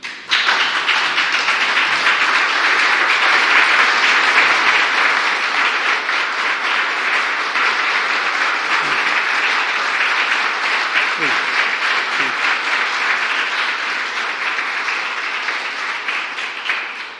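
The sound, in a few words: audience applause welcoming President Joe Biden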